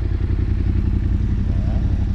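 The engine of a hot-wired Raptor motor vehicle runs close and loud with a deep, rhythmic chugging idle that stays steady throughout.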